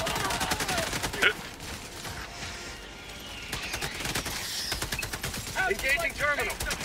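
Sentry turret in Helldivers 2 firing rapid bursts of automatic gunfire, dense volleys of sharp repeated shots with distant battle noise, voices talking intermittently over it.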